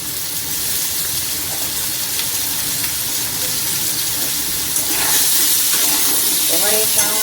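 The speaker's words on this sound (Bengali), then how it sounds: "এবার আমি আলুগুলো দিয়ে দিচ্ছি।" Potato pieces sizzle steadily in hot oil in a home kitchen pan while aloo chorchori is cooked, a continuous close hiss with faint stirring scrapes toward the end.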